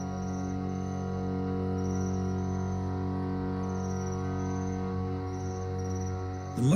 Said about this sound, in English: the chirping of hidden crickets